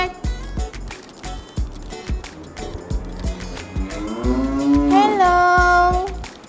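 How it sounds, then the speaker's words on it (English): A cow moos loudly and up close, one long drawn-out low call near the end over a bouncy children's song with thumping beats. "This is a cow. C-O-W, cow."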